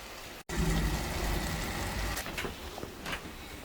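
Heavy rain pours down steadily at close range, a dense continuous hiss and patter after a brief dropout at the start, with a few louder drips and splashes standing out.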